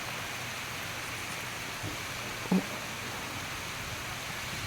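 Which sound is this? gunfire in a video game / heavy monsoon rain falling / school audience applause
heavy monsoon rain falling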